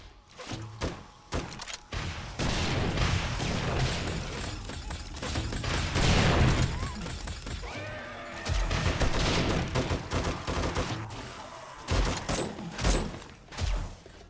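Rockets fired in 7 Days to Die on insane mode, repeated loud thumping launches and blasts in irregular bursts with dense rumbling between them and a few sharp cracks near the end.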